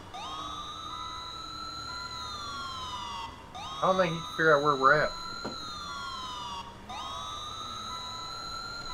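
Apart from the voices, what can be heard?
police siren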